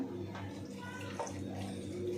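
Water pours into a mixer jar with a brief, soft splashing trickle over a low background hum.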